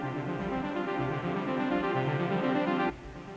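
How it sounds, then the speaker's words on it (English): Arpeggiated Prophet synth drenched in heavy reverb, dense sustained tones with a lush tail that cuts off sharply near the end, playing alone without voices. "I added this little arpeggio synth, which is a Prophet with a lot of reverb on it"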